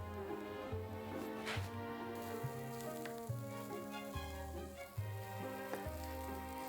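Onions frying and slowly browning in a pan, a steady sizzle running throughout while musical tones play prominently over it.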